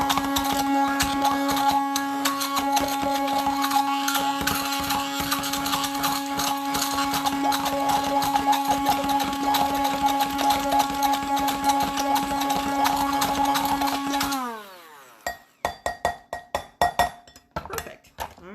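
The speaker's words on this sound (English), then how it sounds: "my blender is struggling just a little bit to chop this all super fine" A struggling blender chops tabouli salad ingredients with olive oil, tomatoes and cucumbers, running at a loud steady whir and then winding down into irregular clunks and rattles as the blades stop.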